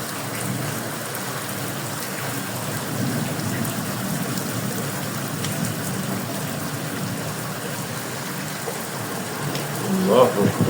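Heavy rain pours steadily in Faisalabad, a broad, continuous hiss that stays loud and unbroken throughout, with a brief swell of louder noise near the end.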